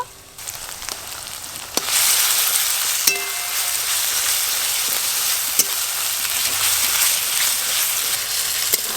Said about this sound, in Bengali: পেঁয়াজ বাটা একটু ভালো করে ভাজা ভাজা করে নিয়েছি, এর সঙ্গে আদা রসুন বাটা দিয়ে দেব।